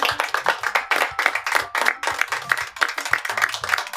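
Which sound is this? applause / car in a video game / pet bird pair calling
applause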